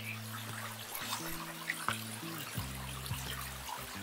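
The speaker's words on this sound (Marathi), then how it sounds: "एक स्मॉल व्हेरी स्मॉल असा धबधबा," A very small waterfall trickles and splashes softly beside a river, faint bubbling water under a low, droning hum of tonal background sound, with a couple of brief sharper drips.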